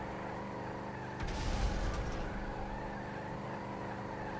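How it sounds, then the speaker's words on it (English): A crooked car with one completely flattened tire rolls on in GTA V, its engine a steady low drone with a brief louder thump and scrape partway through, no voices. "I'm just gonna try to continue on with my severely crooked vehicle that has one tire just completely flattened"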